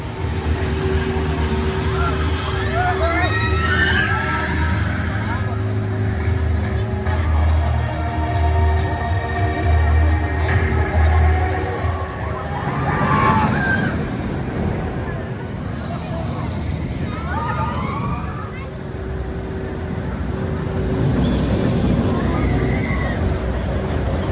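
A ride on the Icon roller coaster at Blackpool Pleasure Beach: a continuous rushing rumble of the train on track with wind noise, while riders shout and talk over it throughout.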